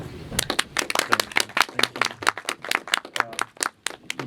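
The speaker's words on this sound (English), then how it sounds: "please, a warm round of applause for Denijal" A small audience claps for Denijal at the start of a workshop: distinct, fairly close handclaps in a loose irregular rhythm, thin enough that individual hands stand out, with no voices over it.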